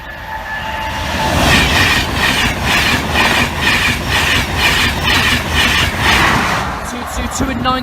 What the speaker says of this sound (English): we will be staying for what looks to be another train